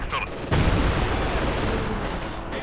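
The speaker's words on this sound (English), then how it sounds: "Howitzer immediately sets off with a volley." Howitzer volley in the strategy game Company of Heroes 2, a heavy boom bursting in suddenly and rolling on as a dense roar of artillery fire, loud and sustained against ongoing game battle noise.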